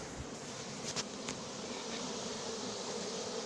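A dense swarm of honeybees hums steadily and continuously around a cardboard box outdoors in Soignolles-en-Brie, a close, even buzz with no talking.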